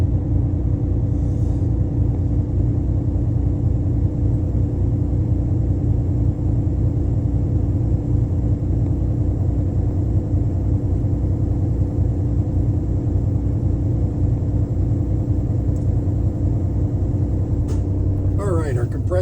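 A truck engine is given throttle in the cab to build up air brake pressure, making a steady, loud droning rumble that holds for the whole stretch and shifts briefly right at the end.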